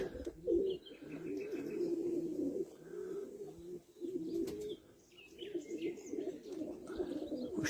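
Soft, low cooing from tumbler pigeons continues steadily throughout, with faint chirps and occasional wing flutters in the background.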